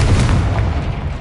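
A magic blast from a Confringo spell in a Harry Potter video game erupts as a single deep, booming explosion, loud and close, rumbling for about a second before fading slightly.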